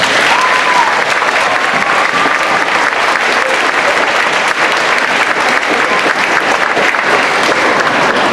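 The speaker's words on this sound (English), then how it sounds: "So a big round of applause for all our friends today." Steady, dense applause from an outdoor audience at a school stewardship day, filling the whole stretch at an even, loud level with no voices standing out.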